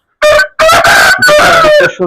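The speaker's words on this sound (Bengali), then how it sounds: "এই দেখেন পাহাড়ি মাল্টি কালারের মোরগ" A multi-coloured hill rooster crows loudly and close by in one long, wavering call with a brief break near the start, heard alone.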